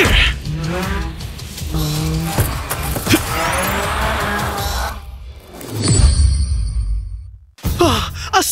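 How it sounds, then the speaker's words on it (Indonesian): A race car drifts through a corner with its engine revving hard, rising and falling as the tires squeal and skid; the sound swells, drops briefly, then resumes loudly. "Astaga, inikah yang disebut ngedrift maut?"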